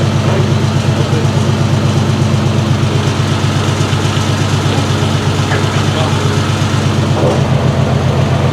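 A 1968 Triumph TR250 engine runs steadily up on jack stands, with a loud, low, rhythmic throb close by and a brief change near the end. A voice talks faintly underneath.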